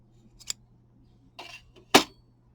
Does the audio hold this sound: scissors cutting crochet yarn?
yes